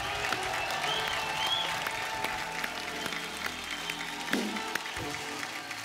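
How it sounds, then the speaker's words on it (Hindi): Audience applause on a comedy show stage, a continuous crowd clapping at moderate level with scattered sharper claps and faint voices mixed in. "जुबीन के लिए जोरदार ताली हो जाए।"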